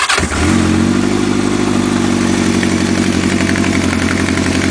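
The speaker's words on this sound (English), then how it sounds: "Now they say these Honda 4-cylinders are kind of famous for being cold-blooded." A cold Honda four-cylinder motorcycle engine fires up with the choke on, on a chilly morning around 40 degrees. After a brief crank it catches and settles into a loud, steady, slightly uneven idle close by.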